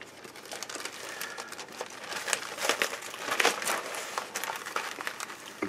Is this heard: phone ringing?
no